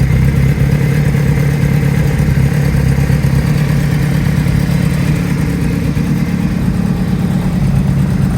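A 2005 Honda CB500 Hornet carbureted motorcycle, scuffed and sold for spares or repairs, idling steadily up close with a loud, even engine drone and light mechanical clatter throughout.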